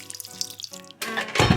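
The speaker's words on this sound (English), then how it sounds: "The yeast has now dissolved, so we're going to pour most of that into here" Dissolved yeast water pours into a bowl of flour, sugar and salt, starting with a few trickles and drips, then becoming a louder splashing pour toward the end; no speech.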